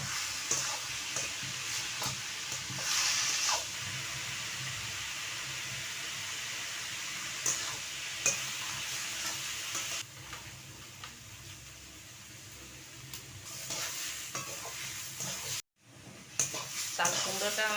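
Ash gourd pieces fry with salt and turmeric in a pan, making a steady sizzle with stirring scrapes and occasional clinks of utensils, moderately loud and close, easing somewhat toward the end.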